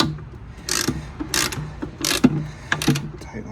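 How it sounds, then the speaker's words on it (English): A ratchet wrench tightens a bolt on a seized Subaru Brat engine, heard as about five short bursts of rapid clicking separated by brief pauses, close and moderately loud. "Tighten this bolt. Overcompensated ratchet here."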